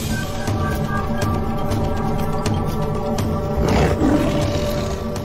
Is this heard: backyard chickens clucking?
no